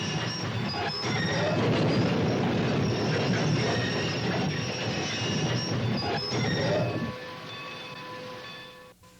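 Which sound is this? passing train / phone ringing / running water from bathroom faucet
passing train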